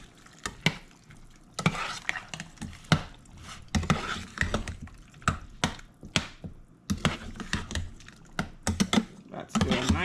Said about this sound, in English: All right, so I'm gonna stir up my okra.